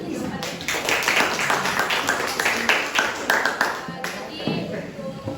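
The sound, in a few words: applause, class clapping hands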